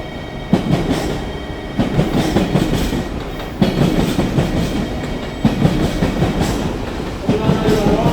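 A JR train departing Hakata Station, with rhythmic clickety-clack of wheels over rail joints repeating steadily at close range, a loud rolling rumble, and faint squeals near the end.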